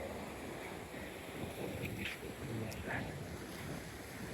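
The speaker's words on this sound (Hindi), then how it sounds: "समुंदर की लहरें" Ocean waves at a Montevideo shoreline with the tide coming in, a steady close wash and surge of water mixed with wind buffeting the microphone.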